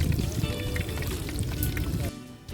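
Oil sizzles steadily in a Mess Tin fry basket during deep frying, a dense crackling hiss at close range that drops off sharply near the end.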